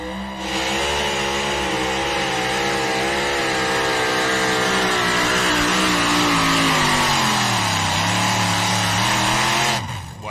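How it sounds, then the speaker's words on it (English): A truck in an NTPA pulling competition roars at full power with a loud, sustained engine drone. The pitch sags and wavers as the motor bogs down near the end of the pull, then cuts off abruptly. "we hear the motor tugging down on that truck pretty good at the end"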